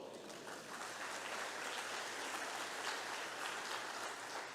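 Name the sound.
applause from congregation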